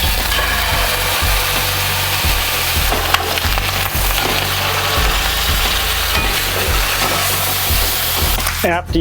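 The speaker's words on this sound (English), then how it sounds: "now I'm going to cook the chicken in my favoriteest of pans" Chicken sizzles in a pan with a steady loud crackling hiss and occasional dull knocks, continuous throughout without talking.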